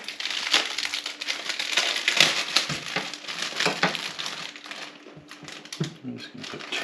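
Knife cutting open crusty baked scones in a pan, a run of dry crunching and crumbly crackling strokes, close and fairly steady, with no talk.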